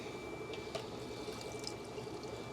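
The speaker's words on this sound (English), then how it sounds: "I'm going to take tank water." Aquarium tank water is poured into a container, giving a soft, steady trickling splash that stays faint throughout.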